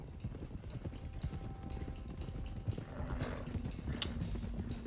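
Horses in a video game trotting along, their hooves clip-clopping in a quick, uneven rhythm at close range for several seconds, with faint background noise underneath.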